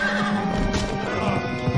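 Horse in the video game Pumpkin Jack neighs with a loud, close whinny, joined by hoof clip-clop, with no talking over it.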